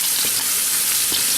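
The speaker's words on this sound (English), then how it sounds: "There's that sizzle." Onions sizzle in hot fat in a large chicken soup pot, a loud, continuous hissing fry heard close up with no pauses.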